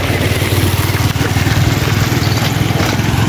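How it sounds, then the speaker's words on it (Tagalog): A motorcycle engine drones steadily nearby on a road during a jog, a loud buzzing rumble that holds fairly constant over a few seconds without clearly fading in or out. "Oh, sandali, may motor."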